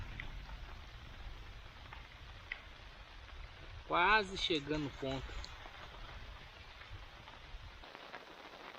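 Steady rain patters at a campsite around a cooking fire where fish is roasting, a close hiss throughout; a voice speaks briefly over it.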